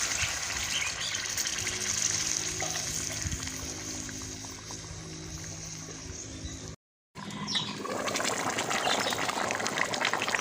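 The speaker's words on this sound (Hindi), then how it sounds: "अब इसमें शोरबे के लिए थोड़ा सा पानी ऐड कर रही हूँ।" Water gushing into a pan of frying fish curry with potatoes to make broth, a steady, fairly loud pour and sizzle with a brief cut before the flow resumes.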